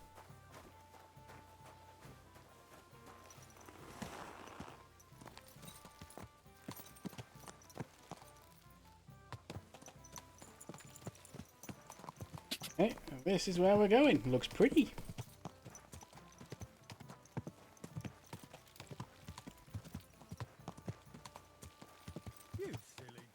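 Horse hooves clip-clop in the video game Kingdom Come Deliverance 2, a steady walking rhythm under game music, swelling into a louder burst midway, while a player talks over it.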